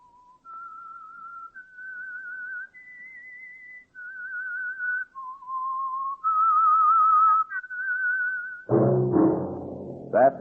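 Someone whistles a clear, steady melody of held notes stepping up and down, the theme of the 1947 radio drama The Whistler, ending with a brief burst of orchestral music.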